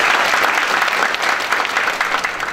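An indoor crowd at a parliamentary seminar on design policy for small businesses claps steadily to welcome an arriving official, producing a sustained, even wash of applause.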